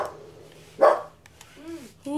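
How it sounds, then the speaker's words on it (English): A pet dog at home lets out a couple of short barks close by, with people talking around it. "Oh, and that's my dog."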